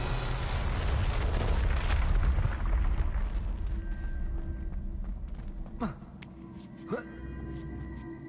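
The Revelio spell in Hogwarts Legacy gives a loud, broad, rumbling whoosh that slowly fades, followed by two quick rising shimmering chimes and a thin sustained tone.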